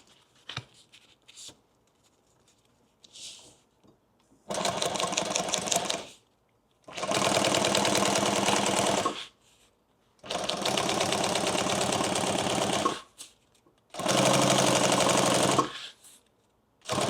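A sewing machine over-sews a ballistic nylon duffle bag in four long, steady bursts of rapid stitching, with short quiet pauses between them. Each run is loud and close, and scattered handling clicks come before the first one.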